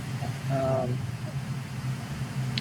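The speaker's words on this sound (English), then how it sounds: "This aircraft has a nice sound set." A steady, low aircraft engine drone from the Prepar3D flight simulator hums continuously, with a brief voice-like tone rising over it.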